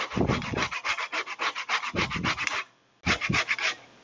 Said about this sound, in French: On va prendre le zeste.